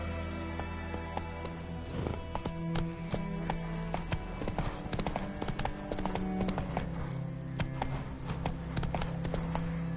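Roach the horse's hooves clip-clopping in the video game The Witcher III: Wild Hunt, a steady close rhythm of sharp hoof strikes that keeps going for ten seconds over a low droning background.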